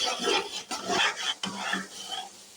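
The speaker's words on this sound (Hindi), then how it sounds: "मज़ीद चमचा चलाते रहें उस वक्त तक जब तक आपका अंडा भुन ना जाए" A spoon stirs egg halwa in a pot, giving several close scraping, rubbing strokes in an uneven rhythm with brief pauses between them.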